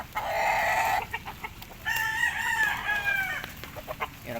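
Two young chickens fighting, giving loud bursts of agitated clucking and squawking calls, close by, with short pauses between calls.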